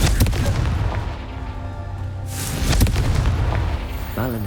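A booming magical explosion from the Confringo blasting spell in the Hogwarts Legacy game, a loud rumbling blast with a sharp crack midway and a sustained roaring tail.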